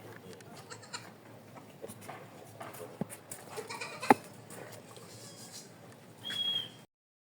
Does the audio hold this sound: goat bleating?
yes